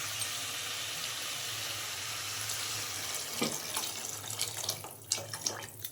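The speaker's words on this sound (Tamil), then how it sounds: "தண்ணி சேர்த்துக்கலாம்." Water runs steadily with a broad rushing hiss, then splashes and gurgles grow louder and more uneven toward the end as it fills a cooking pot with peas for potato masala.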